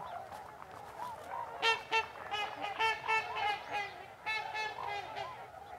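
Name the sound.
swans calling by the river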